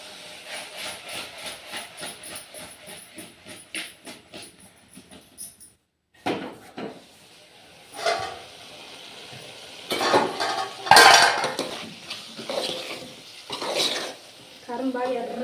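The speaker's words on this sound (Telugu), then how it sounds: "ఇది ఒకసారి కలిపేసి ఇక మూత పెడతా." Eggplant and onion curry with chilli powder stirred in a pot in a village kitchen, giving uneven scraping and clattering strokes over a soft sizzle, with louder bursts of clatter and a short silent gap partway through.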